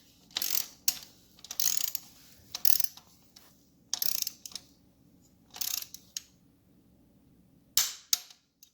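Bolts on a 1974 Norton Commando engine bottom end are tightened with a ratchet, giving repeated bursts of sharp clicking strokes separated by brief pauses, close and clear.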